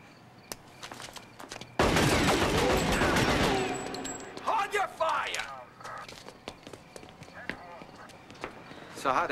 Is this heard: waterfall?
no